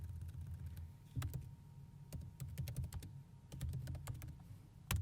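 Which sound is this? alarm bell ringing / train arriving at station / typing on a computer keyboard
typing on a computer keyboard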